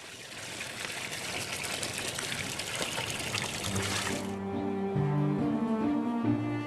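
Camels drinking about forty litres of water each in the desert after a week without it, heard as a steady wet trickling and sloshing that runs throughout, with the hiss easing after four seconds into lower gurgling tones.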